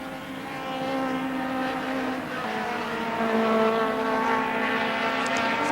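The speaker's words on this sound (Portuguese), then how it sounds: "PQP que se prepara agora para ultrapassar o Rover de Hélder Oliveira." Touring race cars, including a Rover, lapping the Estoril circuit in 1987 with loud, close engine drone and rising, overlapping tones as the cars close in for an overtake, no talk heard.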